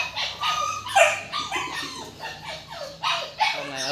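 Bac Ha dogs bark and yip repeatedly in short bursts, with some whimpering between, close and fairly loud, with no talking over them.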